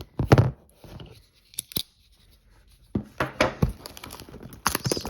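A Demco 80-20.5 shark's foot tool slicing through packing tape on a shipping box, giving sharp tearing and ripping bursts in separate clusters, close and fairly loud, with quiet gaps between strokes.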